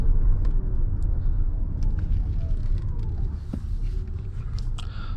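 A 2024 Lexus TX 550h+ plug-in hybrid running in EV mode, heard from inside as a low, even road rumble with a faint high whine and no engine sound.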